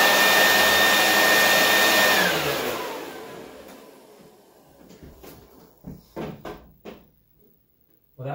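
A bathroom fan's squirrel cage whirs loud and fast, then winds down over a few seconds into quiet, followed by several short knocks and clatters.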